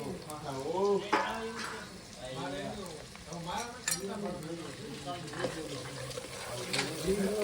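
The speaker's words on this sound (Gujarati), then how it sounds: "આ આપણે કાંદાનો વઘાર લીધો છે એમ ને?" Chopped onions frying in hot oil for a tempering, a continuous crackling sizzle with stirring scrapes, while people talk nearby throughout.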